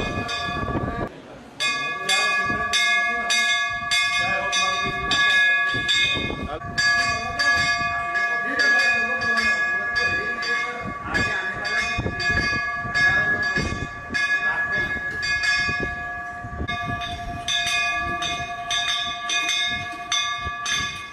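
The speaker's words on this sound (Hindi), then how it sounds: "ये घंटी बिना हाथ लगाए बजती है।" A sensor-activated bell at Pashupatinath temple in Mandsaur rings repeatedly on its own, bright sustained metallic tones struck again and again, close and loud, with voices and crowd noise underneath.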